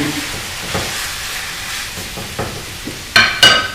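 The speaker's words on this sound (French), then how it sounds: "Je vais revenir mes légumes." Vegetables sauté in a hot pan with a steady close sizzle and occasional stirring scrapes, ending with two sharper clattering knocks of the utensil against the pan.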